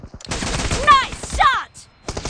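Rapid automatic rifle bursts in a PUBG team deathmatch, sharp repeated shots forming two close, loud volleys with a brief pause between them, mixed with game sound effects.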